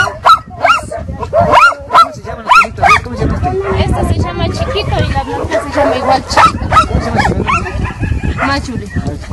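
Many dogs at an animal shelter in Belisario Quevedo bark in rapid, overlapping bursts, loud and near, with some whimpering and human voices mixed in.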